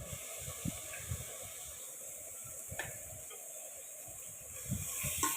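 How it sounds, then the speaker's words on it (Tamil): Ginger garlic paste fries in a pan while chicken biryani is being cooked, giving a soft, steady hiss with a few faint clinks and scrapes. No voices are heard. "இஞ்சி பூண்டு பேஸ்ட்டு சேர்த்த பிறகு அதை நல்லா நம்ம பச்சை வாசனை போகிற அளவுக்கு நல்லா வதக்கி விடணும்"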